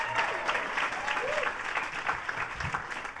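Audience at a governor's announcement event applauds in a brief, steady burst of clapping, with a faint voice rising through it.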